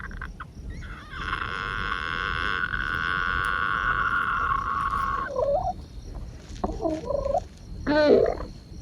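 Harsh, sustained fowl screeching holds steady for several seconds, then breaks into shorter squawks and a loud burst near the end, fairly close.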